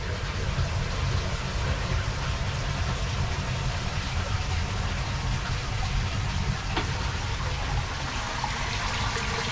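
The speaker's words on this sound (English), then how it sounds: "Alright, this one's filling. So now we have water going in there." Water running steadily into a newly built koi pond, a constant broadband rush and trickle at close range with a low background rumble, no voices.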